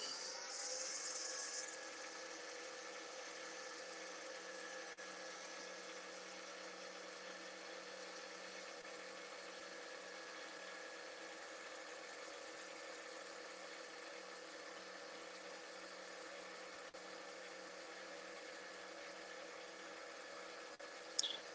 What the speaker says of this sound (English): Just turn my lathe to forward again.